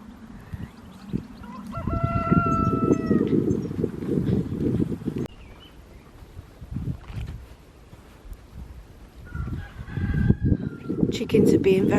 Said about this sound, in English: Chickens are being very vocal.